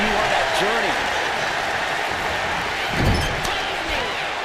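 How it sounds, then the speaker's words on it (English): A capacity arena crowd roars and cheers steadily through a WWE SmackDown wrestling match, a dense continuous wash of noise with a commentator talking over it and a thud from the ring. "you hear this capacity crowd following you on that journey"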